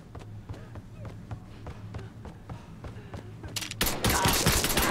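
Gunfire in Mafia III, fired from the hip: a steady run of sharp shots repeating at a quick rhythm under a low game drone, growing louder and denser near the end as the firing intensifies.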